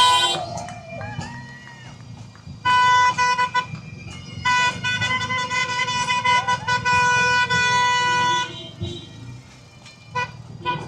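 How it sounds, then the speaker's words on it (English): Glasgow taxis, one an old Austin, drive past with several loud, sustained horn blasts, some overlapping, over steady road traffic rumble and faint voices. "here comes the taxis."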